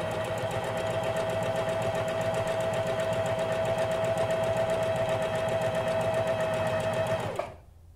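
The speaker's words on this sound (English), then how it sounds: "So now we're just going to sew down." A sewing machine stitches elastic onto a fabric face mask in one steady, continuous run at close range, its rapid needle rhythm holding for about seven seconds before stopping abruptly.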